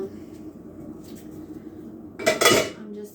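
Dishes being cleaned up, with a sudden cluster of clattering plates and clinking cutlery and glassware near the end, close and fairly loud, after a quieter stretch of low background noise.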